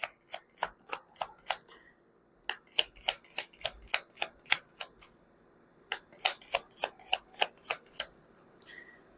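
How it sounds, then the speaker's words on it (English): Quick riffle shuffles of a tarot card deck, three bursts of rapid sharp flutters separated by short pauses, close and clear with no talking. "So let's shuffle again."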